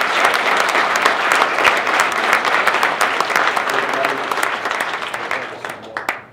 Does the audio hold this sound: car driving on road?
no